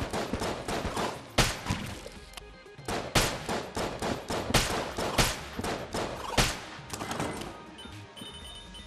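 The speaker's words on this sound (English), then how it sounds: "Something's shooting at us." Rapid bursts of video-game gunfire from Enter the Gungeon, including bouncing bullets, crack in dense volleys throughout, loud and close with brief gaps between flurries.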